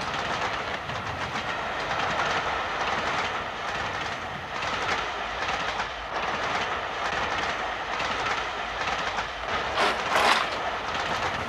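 A train runs steadily along the rails, a continuous rumbling roar with faint rhythmic clatter and a brief brighter squeal near the end, moderately loud with no talk.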